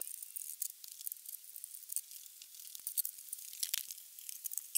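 Red plastic body panels pried off a Polaris 400L ATV make faint, crisp crackling and ticking snaps as the tabs release, with scattered sharper clicks in a quiet space.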